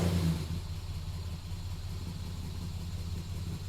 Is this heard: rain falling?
no